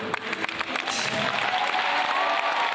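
Concert audience applauding in a packed hall after a song, a dense continuous wash of clapping with some crowd noise, steady and fairly loud throughout.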